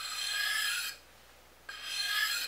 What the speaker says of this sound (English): I want to put a slight chamfer on the edge of all sides of the stone.